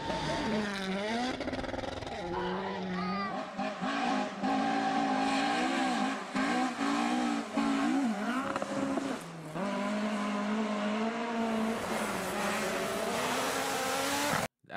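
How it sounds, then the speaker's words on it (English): A rally car engine races and revs hard, loud and near, with rising and falling pitch sweeps through gear changes and a brief drop before climbing again, continuous throughout. "Car does not sound like how it looks."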